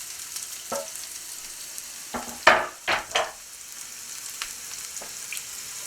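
Diced onion and black jalapenos sauté in a small saucepan with a faint continuous sizzle, broken by a handful of sharp spoon scrapes and stirring clatters, close and without talk.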